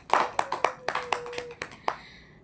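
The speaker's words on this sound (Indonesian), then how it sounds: "Tepuk tangan dulu buat semua kelompok" A classroom of students claps for all the groups, a short run of scattered, uneven hand claps from a small group, fairly close, fading out after about two seconds.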